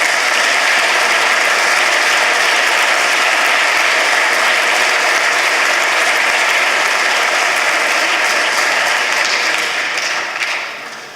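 Loud, sustained applause fills a prize ceremony at a European science contest for young people, a dense wash of clapping that holds steady and then begins to fade at the very end.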